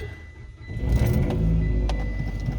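A turbocharged Mitsubishi Lancer engine cranks and catches, then settles into a steady, loud idle close by, with light metallic jingles on top.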